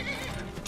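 A horse whinnies loudly and close in Skyrim, the neigh rising and wavering over hoof clatter for under a second, with no voices present.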